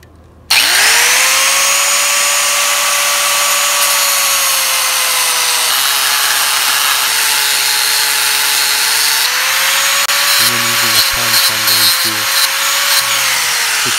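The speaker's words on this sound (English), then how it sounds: "Grind off the remainder of the bolt." A power tool grinds off the protruding end of a bolt on a metal carport, a loud continuous whining drone that holds steady for over ten seconds with slight pitch dips under changing load.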